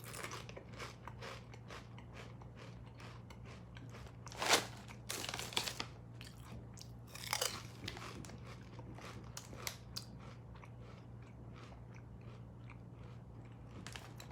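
Crunching on Hokkaido cheese flavored Lay's potato chips from Taiwan: steady close bites and chewing crackles, with a few louder crunch bursts early on, alone and without talk.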